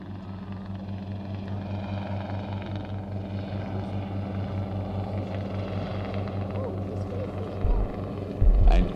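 A helicopter drones steadily overhead at an air festival, a constant rotor rumble with heavier thumps near the end, while a voice talks over a public address in the background.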